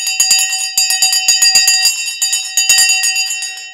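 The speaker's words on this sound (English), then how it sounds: "Okay, the bell has now gone." Stock market closing bell ringing in rapid, repeated metallic strikes, loud and close, a continuous clanging run with no talk over it.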